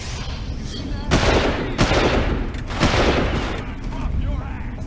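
Rapid automatic gunfire in the video game Far Cry 1, loud dense bursts with two sharp volleys standing out over a constant roar of fire and battle noise.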